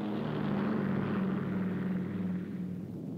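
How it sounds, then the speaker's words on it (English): Aircraft flying aloft during a Nevada atomic test, a steady droning engine rumble holding level and then easing slightly toward the end, heard alone. "as many as 40 other aircraft are aloft to handle special assignments each time an atomic test"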